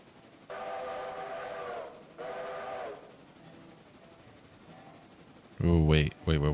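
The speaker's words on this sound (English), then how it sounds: "I'm trying to find a good whistle. I want a good whistle." Two long, tonal blasts of a train whistle from a video game sound pack ring out moderately loud with a pause between them, then a brief louder voiced burst follows near the end.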